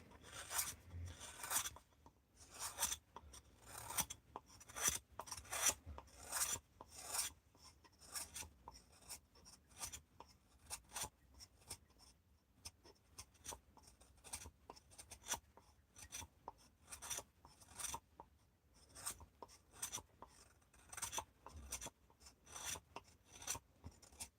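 A knife carves across the end grain of a wooden bowl in repeated short rasping strokes, steady and close, with no talk.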